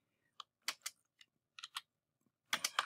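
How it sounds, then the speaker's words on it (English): Keys tapped on a computer keyboard while entering a function name in R, heard as sparse, crisp clicks in small clusters with pauses, ending in a quicker burst of keystrokes, fairly quiet and close. "when I type the function name"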